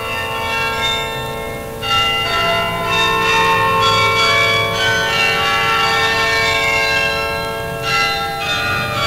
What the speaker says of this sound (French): La tour de Beurre abrite un carillon de 55 cloches